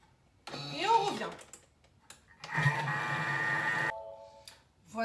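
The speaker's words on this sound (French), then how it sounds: "On va mixer le tout 30 secondes vitesse 4" A Thermomix food processor blends ingredients at speed 4, a steady whirring motor hum that runs for about a second and a half, preceded by a short burst of machine noise and followed by quieter clicks.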